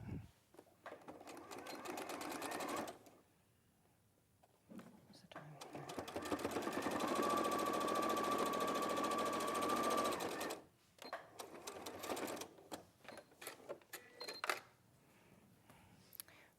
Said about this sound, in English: you're going to sew that down one side